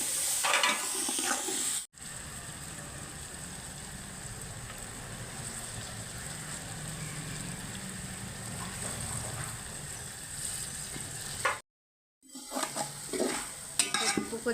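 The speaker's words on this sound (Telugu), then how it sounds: "ఇప్పుడు మనం టమాటాలు అయితే యాడ్ చేసుకుందాం." Tomatoes stir-fried with ginger garlic paste in hot oil, a continuous loud sizzle with occasional scrapes and clinks of a spoon against the pan, briefly cut off twice, no speech.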